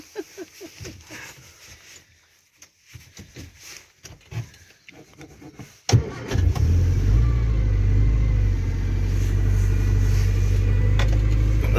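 A 1960 Morris Minor's engine catches on a cold start with a sharp burst, then settles into a steady, loud, close idle. Before it fires there is a stretch of quieter clicks and cranking.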